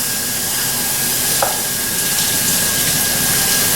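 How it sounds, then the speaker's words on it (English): Shrimp creole sizzles steadily in a hot pan as it is stirred, a loud, even hiss of frying that holds from start to finish with no voices. "Just want to give it a good stir."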